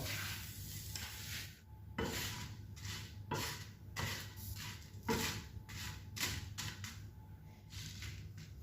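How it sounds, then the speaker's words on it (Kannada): Dried red chillies, about ten pieces, dry-fried and stirred in a hot frying pan, giving a steady soft sizzle with repeated scraping strokes at a fairly even rhythm, close by and without talk. "ಕೆಂಪು ಮೆಣಸು ಇದನ್ನು ಡ್ರೈ ಫ್ರೈ ಮಾಡಬೇಕು"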